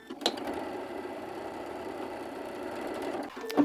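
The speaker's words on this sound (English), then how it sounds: "stitch it on with a 1/4 inch seam" A domestic sewing machine runs a quarter-inch seam on a scrap fabric quilt strip, one steady whirring stitch burst of about three seconds, close and even, bracketed by small clicks at start and end.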